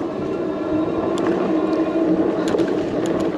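A Mokwheel electric bike rides at full throttle in pedal assist mode 3 on a bumpy road, giving a steady rushing drone of motor and wind with a few small rattles and clicks.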